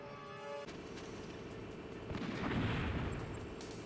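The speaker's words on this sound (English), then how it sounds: "and then we're going to throw a stun grenade." A stun grenade bursts in Metal Gear Solid, a single loud, broad blast around the midpoint that rumbles and fades over a steady game background, with no talking.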